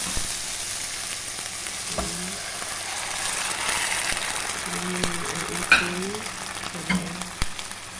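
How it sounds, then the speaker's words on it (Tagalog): Broth poured into a pan of sizzling vegetables and chicken for a tinola-style dish, a steady close hiss with faint murmurs and light clinks over it. "Ilalagay na natin ang sabaw."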